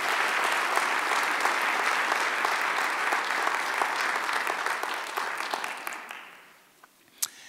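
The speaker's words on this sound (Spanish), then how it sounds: "Dale otro aplauso" Congregation at a church service applauds steadily for about six seconds, dense clapping that then thins out and fades, ending with a single sharp clap.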